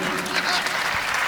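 A comedy-show audience bursts into brief, dense applause, many hands clapping at once, close and steady for just over a second, with a voice faintly audible beneath.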